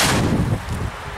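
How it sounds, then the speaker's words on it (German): A China Böller D firecracker goes off outdoors with a loud, sharp bang that decays into a rumbling echo over about a second. "Jetzt der China Böller D."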